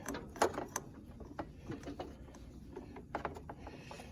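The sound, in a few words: wrench tightening a bolt on a John Deere D125 mower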